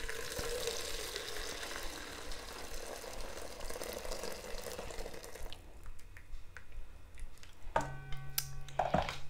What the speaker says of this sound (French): avec mon fouet, je viens tout simplement dissoudre mon savon dans l'eau chaude